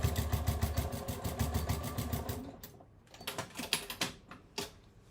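A sewing machine stitches fabric close up: a fast, even run of needle clatter for about two and a half seconds, then shorter stop-start bursts of stitching as the seam is finished.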